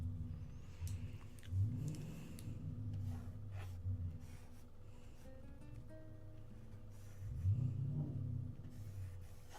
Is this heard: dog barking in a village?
no